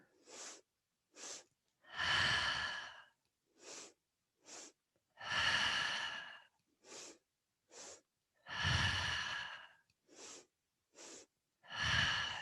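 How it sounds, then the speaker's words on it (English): Breathing during a mat Pilates class, alternating short sharp inhales with longer, fuller exhales in a steady repeating rhythm, close and fairly quiet with no talk. "Inhale, inhale, exhale."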